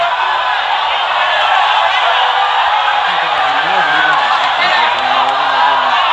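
Crowd at an MMA fight between Aung La Nsang and Ken Hasegawa, a loud, sustained roar of cheering and whooping from a large arena audience, with a commentator's voice over it.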